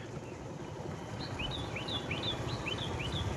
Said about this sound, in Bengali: সন্ধ্যে হয়ে গেছে তো, পাখি টাকি ডাকতেছে না?